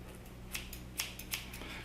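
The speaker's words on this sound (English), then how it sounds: "Let's go ahead and take the scissors." Three or four crisp scissor snips cutting through packaging, fairly close, with a low steady hum underneath.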